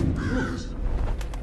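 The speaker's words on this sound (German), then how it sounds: "Dieser scheiß Vogel" A crow caws in the stealth video game Thief, one short raspy call close by and fairly loud over a low background rumble, with no talking.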